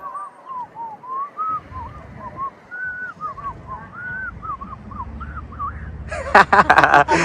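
A person whistles a slow tune in clear sliding notes, one after another over a quiet background, ending with a burst of clattering noise.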